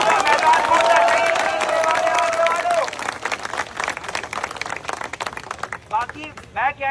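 Crowd applause and cheering at an outdoor student protest in support of exam aspirants, loud sustained clapping with a voice riding over it, thinning into scattered claps and chatter before talk resumes.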